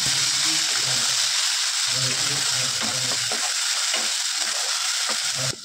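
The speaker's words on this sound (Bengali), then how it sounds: "নাড়াচাড়া করবো।" Spices being stirred into a gravy in a frying pan for a stuffed pointed gourd and prawn dish, with a steady sizzle under repeated scraping strokes, a low voice murmuring at times.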